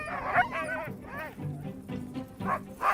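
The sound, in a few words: Svalbard sled dogs barking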